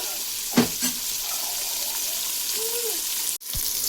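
A pan frying ingredients for coconut milk rice, with tomato going in, gives a quiet steady sizzle, broken by a few soft clinks and stirring sounds, close and low in level.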